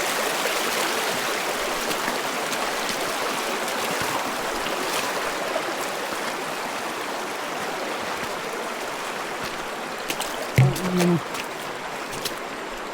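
Steady rushing water of a strong river current flows loudly and continuously on a hike up Mt. Negron, with a brief low knock near the end.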